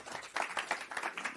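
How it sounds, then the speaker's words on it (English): A conference audience at a Davos climate session applauds a speaker in a short, faint burst of scattered, uneven claps. "Get all the applause which is for you."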